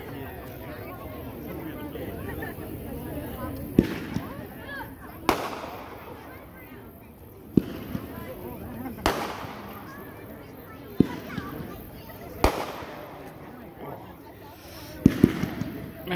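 Consumer firework demo of a Bang assortment, with a series of sharp outdoor bangs at irregular intervals, about seven or eight reports, heard over background crowd chatter and children's voices.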